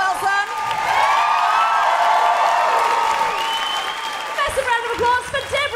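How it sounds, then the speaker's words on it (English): A live podcast audience claps and cheers loudly, a dense burst of applause with whoops swelling and fading before talk resumes. "huge, huge round of applause for the wonderful Elaine"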